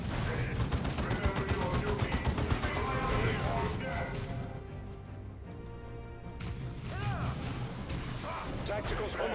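Dense, rapid gunfire and crashing explosions in the Dawn of War II strategy battle, continuous and loud throughout, with game voices speaking over the combat and a brief lull in the middle.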